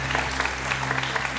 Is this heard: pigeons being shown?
no